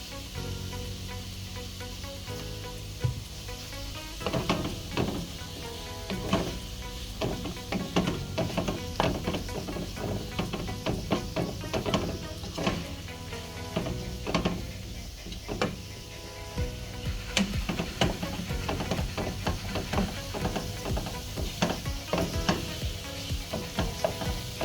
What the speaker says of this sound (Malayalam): ഇനി ഇതിലേക്ക് നമുക്ക് ഇഞ്ചിയും വെളുത്തുള്ളിയും ചേർത്ത് കൊടുക്കാം. എല്ലാം നല്ലതുപോലെ വഴറ്റിയെടുക്കാം.